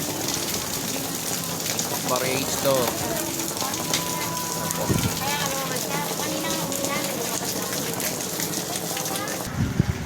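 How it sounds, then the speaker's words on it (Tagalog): Heavy rain pours steadily onto a covered market in Gapan, Nueva Ecija, a dense, constant hiss with occasional drips and clatter, while people talk nearby. "Ayan, lakas ng ulan, no?"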